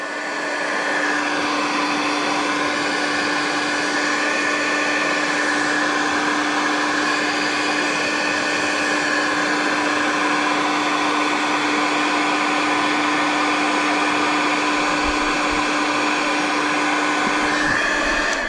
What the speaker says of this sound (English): What you want to do is grab your jig head, get the heat gun,